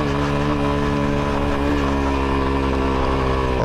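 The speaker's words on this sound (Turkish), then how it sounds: "İki zamanlı off-road makine gibi çıkıyoruz." Yuki Scrambler motorcycle, a two-stroke-style A1-class off-road bike, ridden standing up over a very rough, broken dirt track; a steady, loud engine drone holds throughout with slight pitch shifts and no talking.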